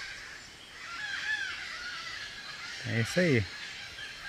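Parrots squawking overhead on a Brazilian farm, a few harsh honking calls, the loudest pair close together near the end, with a short spoken remark over quiet surroundings.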